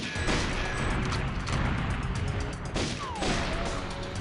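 Gunfire and crates blowing up in GoldenEye's train level, a dense stretch of repeated shots and crashing booms that keeps the level loud and steady with no pauses.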